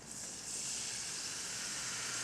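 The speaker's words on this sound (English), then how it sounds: "Hear that sizzle?" Cold water hits a hot roux in a pan and sizzles, giving a steady, fairly quiet hiss that holds for a couple of seconds with no voices.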